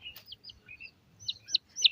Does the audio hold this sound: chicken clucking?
yes